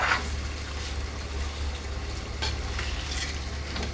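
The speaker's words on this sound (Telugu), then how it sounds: "ఒకసారి మంచిగా చక్కగా కలిపేసుకున్నాము." Fish curry (chepala pulusu) with masala being stirred in a pan, giving a continuous close sizzle and bubbling with soft scraping strokes throughout and no talk.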